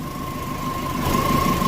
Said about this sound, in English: so turn off the engine, turn it back on 3, 4, 5 times